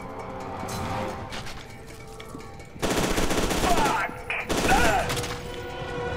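Bursts of automatic gunfire from the shooter game F.E.A.R. 2, loud and sustained volleys mixed with impacts and game effects, sounding close with a short lull between bursts.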